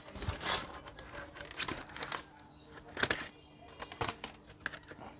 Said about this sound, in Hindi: कीबोर्ड को हम खोल लेते हैं